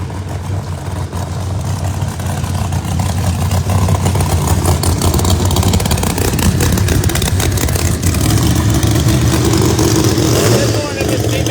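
Pro Charger hot rod drag cars make a side-by-side pass at a drag strip test session, a loud, steady, close engine roar that holds for the whole stretch with rough clattering texture.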